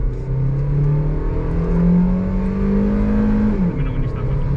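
A car engine revving hard under acceleration, a loud sustained droning roar that climbs in pitch and then drops near the end, with voices faintly in the background.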